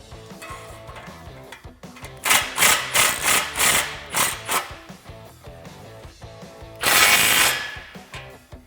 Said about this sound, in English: So I'm gonna tighten up this clamp, just get it nice and snug with our 15 socket.